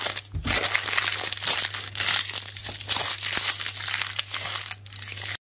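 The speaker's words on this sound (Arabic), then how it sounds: "هناخد البطاطا نحطها في ورق زبدة" Parchment paper crinkles and crumples as sweet potatoes are wrapped in it by hand, a close, continuous rustling with sharp crackles and brief pauses.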